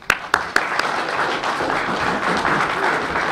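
An audience at a press conference introducing basketball coach Bob Walsh breaks into applause, opening with a few sharp individual claps before swelling into steady, sustained clapping from a crowd.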